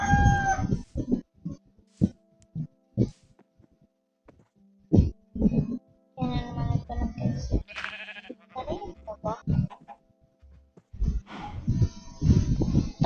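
Chickens cluck and call intermittently close by while a person talks over them in bursts.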